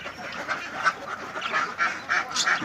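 Laying ducks of a large-egg, thick-shelled breed at a duck farm quack and honk repeatedly in a noisy, close chorus.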